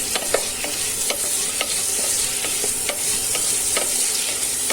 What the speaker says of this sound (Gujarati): ત્યાર પછી આપણે કટ કરેલા બધા કકરિયા ઉમેરી દઈશું આ રીતના બધું આપણે મિક્સ કરી દેશું